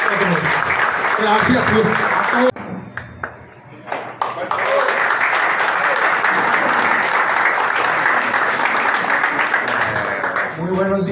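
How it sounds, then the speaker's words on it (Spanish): Strong audience applause at a political event in the municipality of Soledad, loud and sustained, breaking briefly before surging again, with a voice speaking over the clapping. "al cual le damos un fuerte aplauso por llegar hasta el municipio de Soledad"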